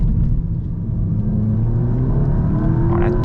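A Volkswagen Golf TCR with a 290 hp engine pulls hard in second gear, its note rising steadily and loud from inside the car, with no talking.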